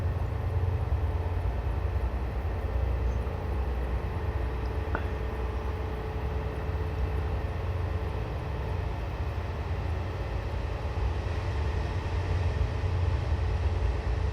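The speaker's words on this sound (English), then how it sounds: "And there's our first AI train" A train in Train Simulator 2017 on the Glasgow Argyle Line rumbles past with a steady low roar and rattling wheels, continuous and fairly loud throughout, with no voices.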